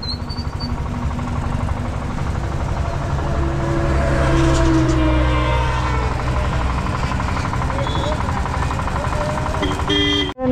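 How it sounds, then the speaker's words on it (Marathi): A Hero Passion Pro motorcycle running after a push start, its engine idling steadily and loudly up close for several seconds amid roadside traffic and a distant horn, ending with a sudden cutoff. "त्याने त्या दोन पोरांनी मदत केली, ढकलली, त्यामुळे गाडी परत चालू झाली"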